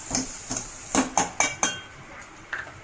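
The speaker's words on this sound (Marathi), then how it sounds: "आता हे शेवगा पण परतून घ्यायचं।" A spoon scraping and knocking against a pan while drumstick pods are stirred and sautéed, several sharp metallic clinks in an uneven rhythm, close and moderately loud, with no talking.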